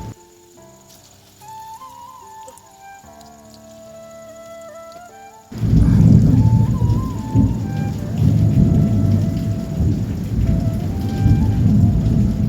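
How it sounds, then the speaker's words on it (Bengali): Piyaji, onion fritters, fry hot, the dense crackling sizzle suddenly swelling loud midway and continuing under faint melodic tones. "আর এখন দেখো পেঁয়াজিগুলো ভেজে নিচ্ছি গরম গরম"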